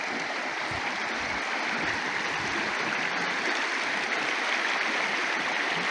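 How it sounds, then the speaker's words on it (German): A small mountain stream of clear water, a side branch of a river, flows in a steady, close, broadband rush and babble that continues unbroken with no voices. "Und am Bergbach sitzen. Das ist ein kleiner Nebenarm von unserem Flüsschen."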